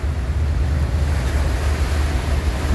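Sea waves wash and roar at night in open water, with steady wind buffeting the microphone in a constant, dense rumble and no voices.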